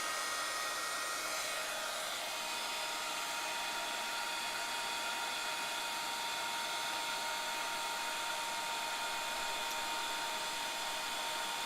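A heat tool blows steadily while melting clear embossing powder on a card, a continuous loud whirring hiss held at close range for the whole stretch with no voices.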